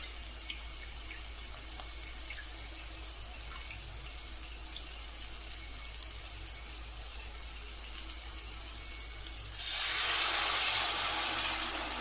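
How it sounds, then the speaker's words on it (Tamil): Tamarind water being poured into a pan of yam curry: a low steady background hum, then a bright rushing pour of liquid near the end lasting a couple of seconds. "புளி தண்ணி ஊற்றிக்கலாம்."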